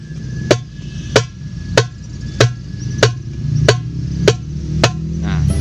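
Darbuka slap strokes with the palm: eight sharp, cracking hits at a steady, even pace, close and crisp over a faint background hum, without speech.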